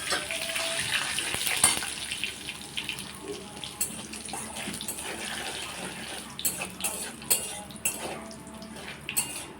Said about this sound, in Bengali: আর এখানে ফোড়নেতে দিয়েছি জিরে, তেজপাতা, শুকনো লঙ্কা আর গোটা দারচিনি কি অল্প একটু।